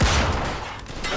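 A single gunshot in Mafia 2: Definitive Edition, a sharp blast fading into a brief reverberant tail, loud and close.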